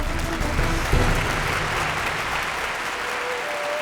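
A Taiwanese audience applauds a Chinese circus troupe, with loud, dense, steady clapping from a large crowd that fills the whole stretch and tapers only slightly toward the end.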